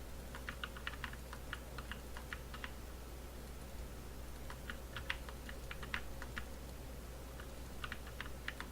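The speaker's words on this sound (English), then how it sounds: "Sorry if you're hearing the mouse and everything in the background. Yeah, keyboard and mouse, not the quietest things ever. They're super clicky" Clicky computer keyboard and mouse tapped in quick bursts of sharp keystrokes, with a pause in the middle, faint and close against a low steady background hum during Killing Floor 2 gameplay.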